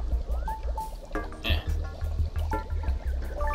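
A bottle fills with soapy, bubbly water in the Adventure Time: Finn and Jake Investigations video game, with gurgling, dripping liquid sounds under a voice and tonal game sounds.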